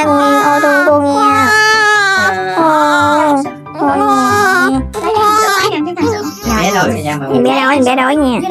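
A hungry newborn baby cries loudly and continuously in a hospital room, with wavering wails that pause briefly for breaths, while adults talk nearby.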